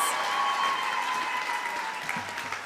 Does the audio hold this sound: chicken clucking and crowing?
no